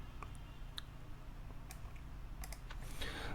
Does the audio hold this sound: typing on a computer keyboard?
yes